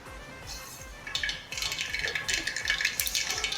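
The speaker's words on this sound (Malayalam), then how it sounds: "നമുക്ക് കടുക് ഇട്ട് കൊടുക്കാം." Mustard seeds land in hot coconut oil in a heavy pan and start spitting, a quiet low scraping at first, then a burst of crackling and popping that keeps going, close and alone.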